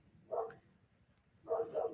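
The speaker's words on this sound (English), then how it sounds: "The big dogs next door don't like the postman, it sounds like." Big dogs next door bark at the postman. Two short, faint bursts of barking about a second apart come from some distance and stand alone against a quiet background.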